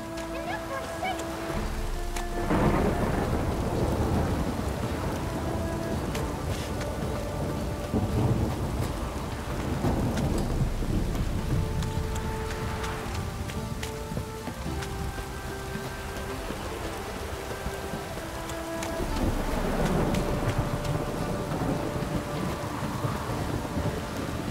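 Downpour with thunder in The Witcher 3, heavy steady rain hissing throughout while several deep rolls of thunder swell and fade at intervals.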